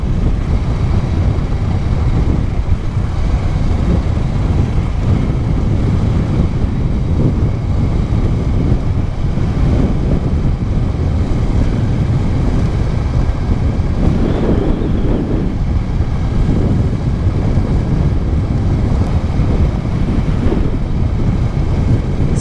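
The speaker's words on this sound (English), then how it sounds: "It's actually quite a strong wind." Strong wind roars and buffets without a break into the microphone during a ride on a Kawasaki Versys-X 300 along a pipeline in Botswana. The low, rumbling gusts are loud and continuous, and no voices are heard.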